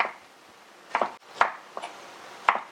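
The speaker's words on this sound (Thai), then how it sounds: "หั่นเป็นเส้นๆแบบนี้ค่ะ" A knife slices santol fruit into strips against a board, four or five sharp chops spaced unevenly, close and clear over a quiet background.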